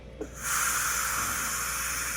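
Steady loud hiss of steam venting from a pressure cooker used to cook beef pares, starting after a short click and continuing without a break.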